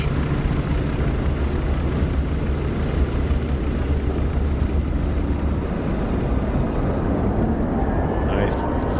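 A plane in Microsoft Flight Simulator makes a quick short takeoff at a National eSTOL Pony Express event, its steady engine roar filling the whole stretch loud and constant, with a faint higher whine near the end.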